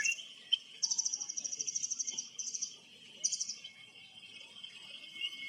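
Bright, high white-rumped shama song with repeated rapid trills and whistled phrases, a continuous high insect-like buzz running underneath; fairly quiet, no voices.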